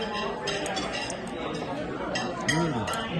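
Glasses clinking in a toast at a Chinese New Year dinner in Chinatown, a few light, quick clinks amid busy table chatter and people talking.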